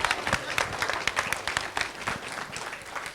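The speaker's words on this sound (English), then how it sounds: "Clap as much as you can." Dense, steady applause from a convention audience at the MAHRP National HR Convention & Expo 2022, with many hands clapping at once. It sounds close and full and continues through the whole stretch.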